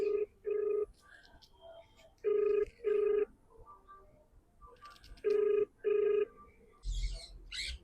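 A telephone rings in three double-ring bursts with pauses between, going unanswered, followed by a brief rustle at the end.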